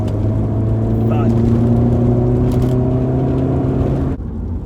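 A car drives at about 40 mph across an empty bridge, its steady engine drone holding with tonal harmonics close by, overlaid by a voice, then easing off abruptly near the end.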